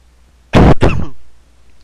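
A single loud, close throat clearing with a short cough-like burst, followed by quiet room tone.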